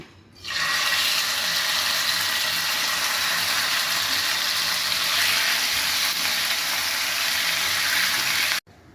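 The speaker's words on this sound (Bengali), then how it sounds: "চুলায় একটি প্যান বসিয়ে দিলাম, সামান্য তেল দিয়ে দিলাম। এখন আমি এগুলোকে ভেজে নেব।" Marinated meat frying in a little oil in a pan on a stove, a steady loud sizzle that holds evenly for several seconds and then cuts off abruptly.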